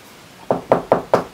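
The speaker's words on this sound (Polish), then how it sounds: "Pukać." Four sharp knocks in a quick, even rhythm, close and clear against near silence, as on a door or wooden surface.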